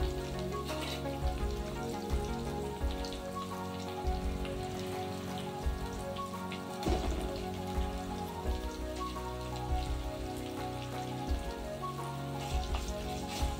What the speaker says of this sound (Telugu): ఈ అల్లం వెల్లుల్లి పేస్ట్ నూనెలో ఫ్రై అయ్యేంత వరకు అయితే ఫ్రై చేయాలి